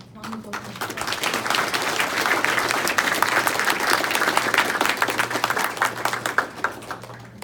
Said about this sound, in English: let's give a round of applause again to our keynote speaker